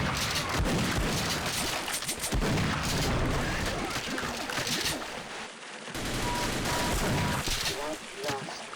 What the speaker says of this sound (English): Well, you just keep shooting.